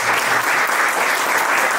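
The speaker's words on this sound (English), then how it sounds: "So a big round of applause for sir." Applause from the audience at a conference session is loud and continuous, a dense close wash of clapping that stays even for the whole short stretch.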